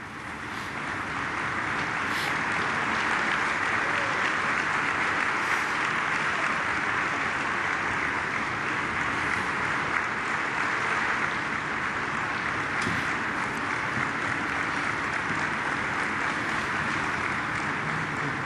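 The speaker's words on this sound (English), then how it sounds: "Applause from the Polish president there." Sustained applause from a large crowd at a memorial ceremony attended by the Polish president, a dense steady roar of clapping that swells in and holds for the whole stretch.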